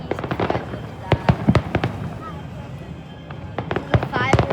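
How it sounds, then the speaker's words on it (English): Loud fireworks explosions at Second Beach in Stanley Park, clustered bangs and crackles in quick bursts with short pauses between, and people chattering throughout. "This is the fireworks."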